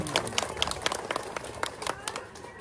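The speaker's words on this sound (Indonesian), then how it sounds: "Tepuk tangan buat kita semua di sini." A crowd claps in a brief burst of scattered applause, fairly distant, with some background murmur.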